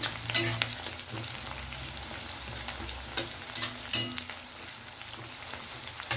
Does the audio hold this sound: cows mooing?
no